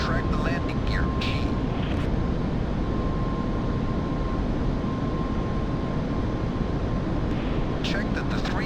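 Northrop F-5E jet engine roaring at takeoff thrust in the DCS flight simulator, a loud, steady broadband rumble with a thin sustained whine, continuous throughout with no break.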